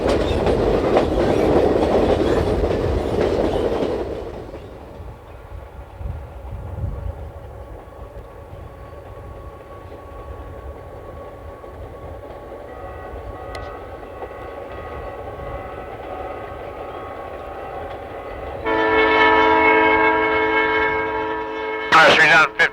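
An Alaska Railroad train rumbling and clattering along the tracks, followed by a loud, sustained horn blast near the end, with a voice speaking briefly.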